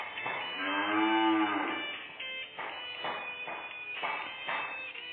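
A lot of eleven cows moos at a cattle sale, starting with one long, loud, close bellow, then shorter rhythmic lowing calls follow one after another with no talk.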